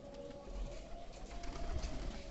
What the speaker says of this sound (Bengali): অনেক কবুতর, প্রায় 50টা 60টা কবুতর আছে।